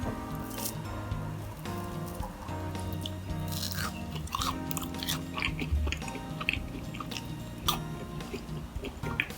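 Crisp bites and steady chewing of a fried sweet potato glutinous rice donut, close and fairly quiet, with repeated crunchy clicks over soft mouth sounds and no talking.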